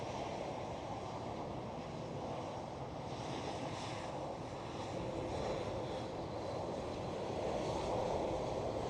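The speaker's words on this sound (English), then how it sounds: "Right here we do have a KLM Cityhopper E190." A KLM Cityhopper Embraer E190 at Amsterdam Schiphol, a faint, distant, steady engine rumble under outdoor wind noise, fairly even throughout.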